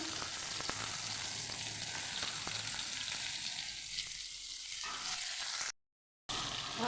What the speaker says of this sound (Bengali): দেখো ভাজা হয়ে গেছে দেখো একদম লাল লাল ভাজা